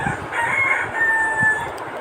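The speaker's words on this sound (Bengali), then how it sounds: "এগুলো হচ্ছে পাখি তো আমরা এগুলো একটু দেখানোর চেষ্টা করলাম আপনাদের" A rooster crows loudly nearby in a drawn-out call, with other birds chattering faintly in the background.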